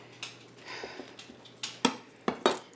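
A metal stock pot is handled in a home kitchen: a few sharp clanks and knocks, the last ones louder and close, in an otherwise quiet room.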